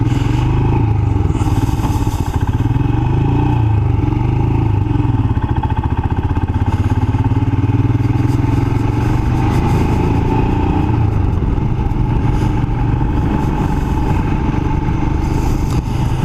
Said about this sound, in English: the Himalayan's a good bike for going nowhere